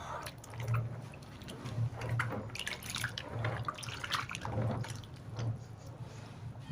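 Water poured and sloshed over soaked beans to loosen their skins during homemade bean flour preparation, a steady close liquid splashing and dripping with a low background hum, no talk.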